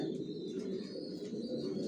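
Janssen-line racing pigeons cooing steadily in a loft, a soft continuous murmur of many birds close by with no talk over it.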